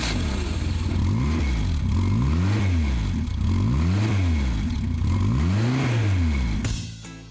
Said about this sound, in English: it can run at full throttle